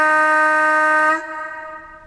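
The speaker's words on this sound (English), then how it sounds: "So we're going to go for the air horns, which are on 2 and 3." An Accurascale class 55 Deltic model locomotive with DCC sound gives a single sustained air-horn blast, loud and steady for about a second before cutting off into a short echoing tail.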